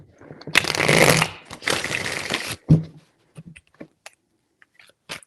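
Tarot cards are shuffled in two long riffling bursts, followed by a few soft taps and clicks as the deck is handled, close and clear with no talking.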